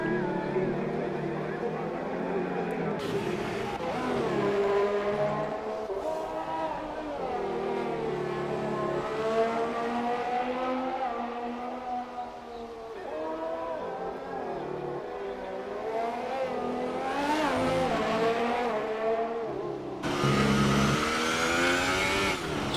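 A Formula 1 car from the F1 2018 racing game on an outlap at the Hungary circuit, its engine droning and shifting pitch as it accelerates and brakes, continuous and close throughout.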